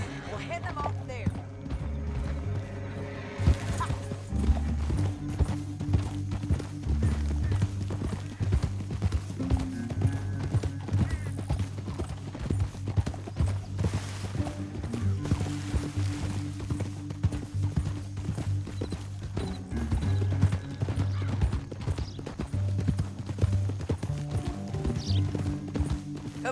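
Rhythmic horse hooves clip-clopping steadily over a sustained musical score in Red Dead Redemption 2, with brief voices occasionally heard in the mix.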